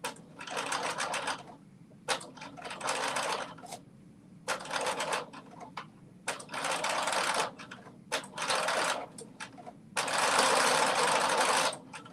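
Sewing machine running a long 3.5 stitch length along a curved seam, buzzing in steady bursts of one to two seconds separated by short pauses, close and clear with no talk.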